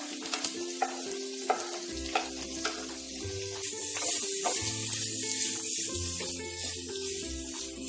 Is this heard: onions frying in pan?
yes